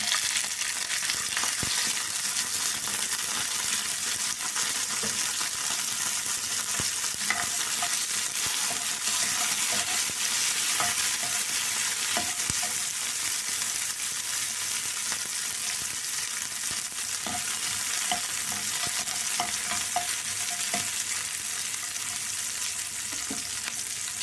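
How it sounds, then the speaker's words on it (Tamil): Small and large onions, garlic cloves and coriander sauté in a pan for dried-fish chutney, a continuous close sizzle with light stirring scrapes and occasional clicks throughout, no voices. "சின்ன வெங்காயம் பெரிய வெங்காயம் ஒன்று நாலு புல் பூண்டு பல் கொஞ்சம் கொத்தமல்லி போட்டு அப்படியே வதக்கிடலாம்"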